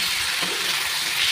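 Grated tomato sautés in a pan with boiled potatoes and onions, a brief, close, steady hissing sizzle with a faint stir in the middle.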